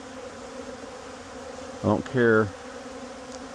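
Honey bees buzz steadily around a hive during beekeeping work, a low continuous drone running throughout, briefly overlaid by a short spoken phrase.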